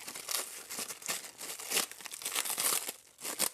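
Crinkling and tearing of a small plastic bag as a tube is unwrapped during a Ortuer Laser Master 3 laser engraver build, a close, continuous rustle with sharper crunchy bursts throughout.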